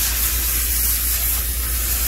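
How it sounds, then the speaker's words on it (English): Loud, steady hiss of a spray nozzle driving water and conditioner into a fluffy corgi's coat in a bathtub, a continuous close wash of spray with no break. "Hopefully y'all can still hear me over the spray."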